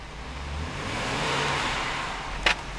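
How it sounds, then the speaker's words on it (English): The 3.0-liter six-cylinder engine of a 2013 BMW X5 35i is revved from idle in a single smooth swell that rises and falls back, heard up close with a brief click near the end. "I'm going to rev the engine."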